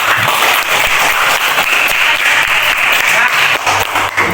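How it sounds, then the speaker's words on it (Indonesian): A classroom group gives a dense, continuous round of applause that stays loud and even throughout, with a few voices mixed into the clapping. "kita beri aplaus untuk kita semua"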